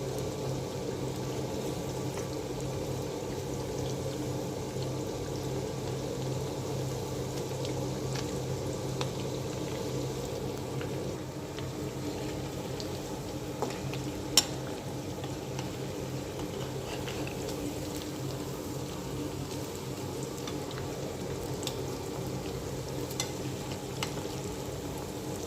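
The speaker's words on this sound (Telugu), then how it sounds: "దీన్ని కూడా వేయించేసుకుందాం" Chicken pieces frying in hot oil in a pan, a steady continuous sizzle and bubbling that runs throughout at moderate level, with no voices.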